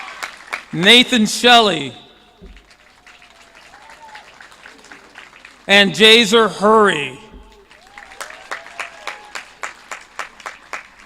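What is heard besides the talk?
audience applause for graduating students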